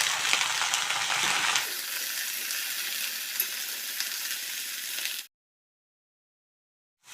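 Eggplant pieces fry over a high gas flame in a pan for a vegetarian drumstick (sojne data) dish, making a loud, dense, steady sizzle with light stirring that cuts off abruptly, leaving near silence.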